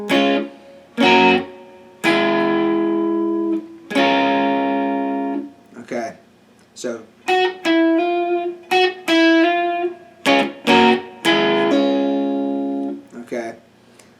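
An electric guitar plays a riff, with ringing chords and quick repeated single notes separated by short pauses, and someone speaks briefly at the end.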